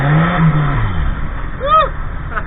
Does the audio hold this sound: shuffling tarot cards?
no